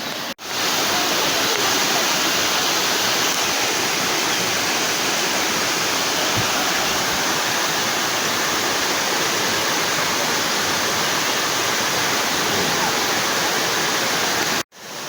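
Gorman Falls, a low but very wide waterfall roughly 70 feet tall and 700 feet across, roars in a steady, dense wash of rushing water that holds constant for the whole stretch, loud and close, with no voices.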